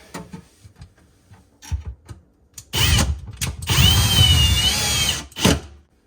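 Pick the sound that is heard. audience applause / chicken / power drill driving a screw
power drill driving a screw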